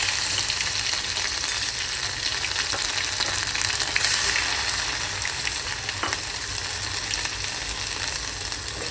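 Green chili thecha masala for a spicy potato thecha hitting a hot pan, a loud, continuous sizzle with a crackling frying hiss that holds steady throughout, with no voices.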